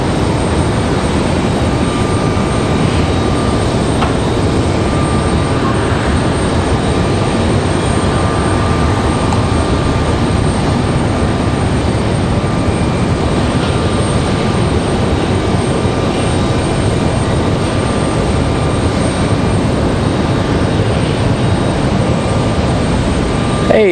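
Republic Airways airliner at Raleigh-Durham International Airport, a steady, loud engine roar that holds at an even level throughout, with no voices over it.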